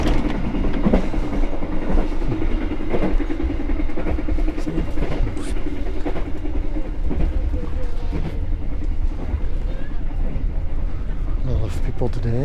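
An Airlangga passenger train in Indonesia rumbles along with rhythmic clicking over the rails, with people talking nearby throughout on the crowded train.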